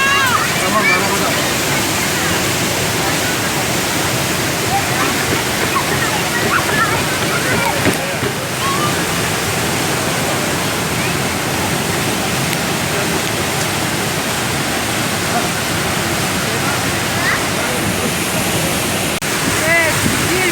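Gürpınar Waterfall in Malatya roars with a dense, unbroken rush of falling water that fills the whole scene at a steady loudness. Voices are present, mostly buried under the flow.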